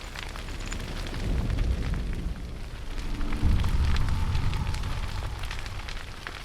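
Fire roars and crackles steadily in Hellblade: Senua's Sacrifice, a broad rumbling blaze that swells and deepens midway, with no talk over it.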